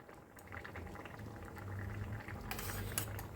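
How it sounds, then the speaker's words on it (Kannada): Green peas kurma bubbling steadily in a pot on a gas stove, a soft continuous simmer with small popping bubbles, fairly quiet and with no talking. "ಚೆನ್ನಾಗಿ ಕುದೀತಾ ಇದೆ."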